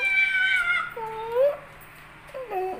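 A pet cat meows repeatedly while waiting at a door to be let outside, with a few drawn-out, rising and falling cries close by and no talk over them.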